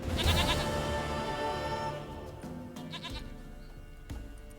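A goat bleats amid dense layered game audio in The Witcher 3: Wild Hunt, the short wavering cries rising out of a busy background of music and ambience.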